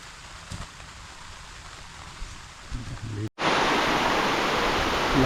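Heavy rain on a farm as a typhoon approaches, heard first faint under a quiet background with some talk, then bursting in as a loud, dense, steady roar after a brief cut.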